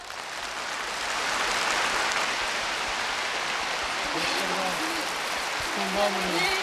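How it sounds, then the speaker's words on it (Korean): An audience at a 75th anniversary commemorative gathering of the Mangyongdae and Kang Pan Sok revolutionary schools breaks into sustained, dense applause that swells and holds, with a voice rising near the end. "우리 모두 열렬한 뜨거운 박수를 보내줍시다"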